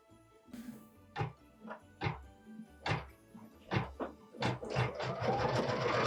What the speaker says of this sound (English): we're going to return it to the machine and stitch the tack down line